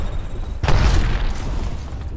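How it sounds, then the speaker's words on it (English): A grenade in Apex Legends detonates with one loud, deep boom that rolls out over a couple of seconds, set against the steady background of the game. "Grenade, watch out!"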